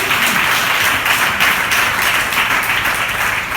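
A church congregation at a Sunday service claps loudly together, a dense, continuous patter of many hands filling the room without letup.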